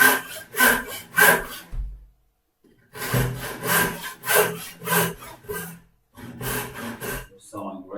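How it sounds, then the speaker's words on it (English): A hand saw cutting wood for a wall clock in rhythmic rasping strokes, several back-and-forth passes in two bursts separated by a short pause, close and fairly loud. "You can check every now and again if you're sawing straight."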